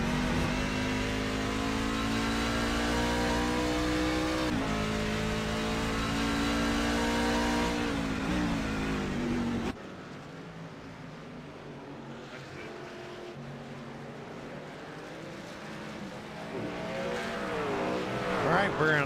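Race car engines at Watkins Glen in a racing video game, a loud sustained engine roar with shifting pitch as cars accelerate, dropping quieter midway before revving up again.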